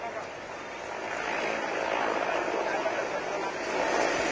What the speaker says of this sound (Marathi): मोदींचं जे हेलिकॉप्टर आहे ते आता मुंबईच्या दिशेनं त्यानं उड्डाण घेतलेलं आहे